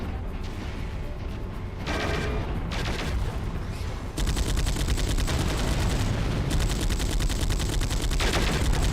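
Heavy mech gunfire from the video game MechWarrior 4: Mercenaries, likely an AC20 autocannon, pounds almost without pause, loud and dense, with mechanical clanking layered beneath the repeated blasts.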